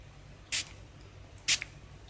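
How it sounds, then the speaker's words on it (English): Two quick, hissing spritzes of rose water misted from a spray bottle as a makeup setting spray, about a second apart, close and crisp over a quiet room. "Rose water as setting spray at the end."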